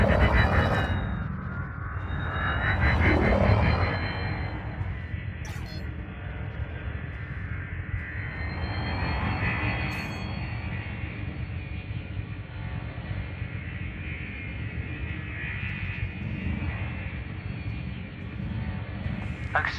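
Spaceship engine from the Elite Dangerous video game, a steady broadband rumble and whoosh that swells and eases while flying through an orbital structure, with no talk over it.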